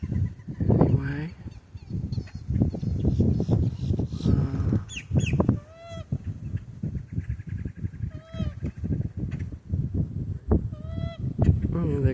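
Coots call at Orlando Wetlands Park with repeated nasal honking notes, some near and loud, others fainter, scattered across the scene while people talk intermittently in the background.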